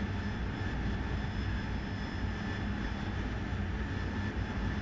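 An AV-8B Harrier jet engine climbing at night in the DCS World flight simulator gives a steady, loud, unbroken roar that holds at an even level throughout, with no voices.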